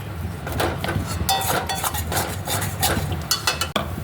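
Food is stirred in a cooking pot, with a continuous scraping and clinking of a utensil against metal, close by and moderately quiet, with no voices.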